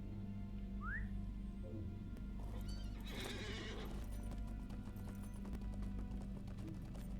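A horse in the Lord of the Rings Online video game whinnies once with a short rising call, then hooves clop steadily over a constant low drone, with no talking.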